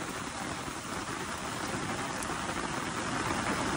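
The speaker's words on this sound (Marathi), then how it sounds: "पाऊस काही कमी होतं नाव घेत नाही, मध्येच पडता मध्येच." Sudden heavy rain falls on a house in a Konkan village, a dense, even hiss that holds steady and close with no voices.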